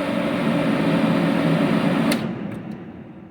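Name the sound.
Everlast W375 TIG welder water cooler running, loud fan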